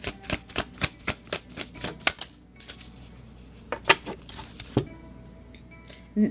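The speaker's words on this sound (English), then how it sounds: "Now, you guys see me shuffling these cards, right?" Playing cards are shuffled by hand, giving a rapid burst of crisp riffling clicks that pauses briefly, then resumes with scattered snaps, close and fairly loud with no talking.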